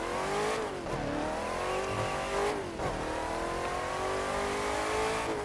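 Racing car engine in The Crew 2 driven with a Logitech G923 wheel, revving hard and rising through the gears in continuous loud acceleration, with two brief dips at shifts.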